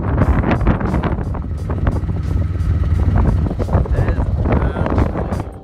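Strong wind blowing across a snowy hill, a loud continuous rush buffeting the microphone with gusty rumbling throughout.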